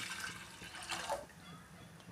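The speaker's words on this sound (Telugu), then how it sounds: "ఇలా ఒక బౌల్లో కొన్ని వాటర్ పోసుకోవాలి" Water poured into a bowl, soft gurgling and splashing in a few uneven bursts, quiet and close, with no one speaking.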